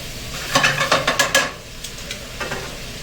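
Very thin slices of sirloin sear in a hot pan with steak seasoning and oil, giving a quick run of rhythmic sizzling bursts and stirring scrapes before they fade to a few softer crackles.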